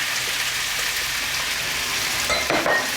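Steady crackling sizzle of potatoes frying in rendered bacon fat, continuous and close, with a few sharper pops and a brief clatter near the end.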